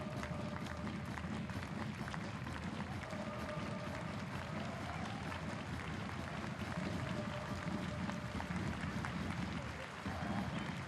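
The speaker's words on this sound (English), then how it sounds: "A chance for Momoko Tanikawa to receive some applause from the home stadium" Home crowd at a women's football friendly between RB Omiya and FC Bayern Frauen in Tokyo applauds a substituted player, Momoko Tanikawa, a steady wash of clapping and crowd noise running throughout.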